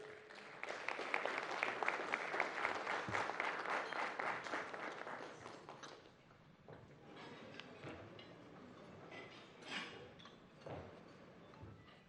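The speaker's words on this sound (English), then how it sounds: "with a round of applause, help me welcome Mr. Ahassan Andani." Audience applause welcoming a bank managing director at a business breakfast meeting, dense clapping for about six seconds, then thinning to scattered claps with light room noise.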